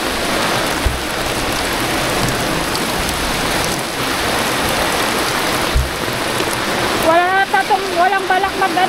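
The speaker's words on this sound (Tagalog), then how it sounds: "Grabe nga kasi guys yung ulan guys." Heavy rain pours down outdoors in the countryside, a loud, unbroken roar of water hitting surfaces. A person starts talking over it near the end.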